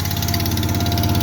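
A tractor backhoe engine idles steadily close up, a continuous low rumble with an even throbbing pulse and no pauses.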